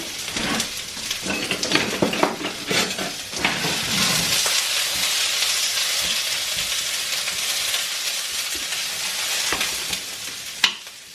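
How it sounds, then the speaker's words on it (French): Onions fry with a steady sizzle and hiss in a pan on an induction hob, while a utensil scrapes and clicks through them in the first few seconds. The frying continues alone to the end, with one louder knock near the close. "Je vais touiller un petit coup les oignons."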